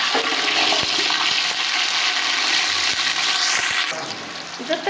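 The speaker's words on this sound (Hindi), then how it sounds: "दूसरी तरफ जो हमारा घी था वो गर्म हो रहा है। अब इसके अंदर जो है मैं ऐड कर रही हूँ ये प्याज।" Onions dropped into hot ghee hiss and crackle loudly, a steady sizzle with a few soft clicks, close-up in a home kitchen where a chicken pulao is being cooked.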